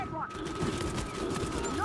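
Rapid bursts of gunfire in an Uncharted 4 multiplayer match rattle in the background over steady game noise, while players talk over it.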